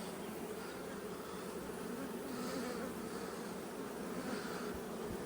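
Honeybees swarm densely in an open beehive during a colony inspection, a steady low buzzing hum that fills the whole stretch, close and even, with no talking.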